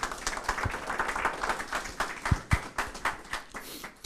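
An audience applauds, dense clapping sustained throughout with a few sharper, louder claps standing out.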